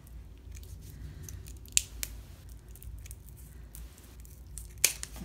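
Scissors cut through a folded adhesive command strip, giving sharp, close snips at two distinct moments amid quiet handling noise.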